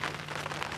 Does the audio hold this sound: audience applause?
no